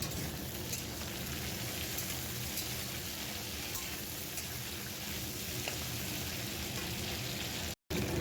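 Mixed summer vegetables fry lightly in a pan for a fish curry, giving a steady, unbroken hiss of sizzling at moderate volume with one brief dropout near the end and no talking.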